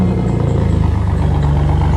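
A 1999 Chevy Blazer 4.3L V6 running on straight-pipe exhaust with the muffler deleted: a loud, deep, pulsing idle rumble, steady and close throughout.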